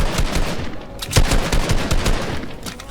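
Dense, continuous gunfire in a 1v1 console shooter tournament, rapid loud shots packed tightly together over a constant roar with no clear pauses.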